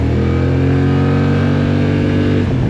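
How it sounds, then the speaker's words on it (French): A Kymco AK 550 Premium maxi-scooter accelerates, its engine note close and loud with a steady, rising tone that eases off right at the end; no one speaks. "Écoute-moi ce bruit à l'accélération."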